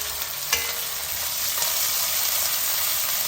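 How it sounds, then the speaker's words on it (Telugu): Onions and curry leaves fry in a pan with a steady, even sizzle; a single utensil clink comes early, then the crackle carries on alone. "మన ఉల్లిపాయలు వేగుతున్నాయి కదా మంచిగా వేగనిద్దాము"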